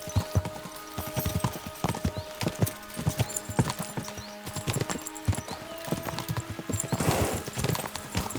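Rapid clip-clop of several horses' hooves galloping steadily in Kingdom Come: Deliverance II, close and busy throughout, with a brief whinny near the end.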